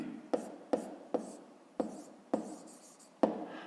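Chalk or pen strokes land during a fifth-grade maths lesson: six short, crisp taps and scratches spaced about half a second apart, close and fairly quiet.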